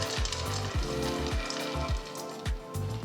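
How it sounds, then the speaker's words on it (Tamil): A spatula stirs a dry fruit burfi mixture of dates and figs in a pan over a low flame. It makes soft, rhythmic scraping strokes about twice a second over a faint continuous sizzle, close up and with no voices. "மெதுவாக நல்லா கலந்து விட்டுக்கிட்டே இருந்தீங்கன்னா நல்லா சாஃப்டாக வந்துடும்"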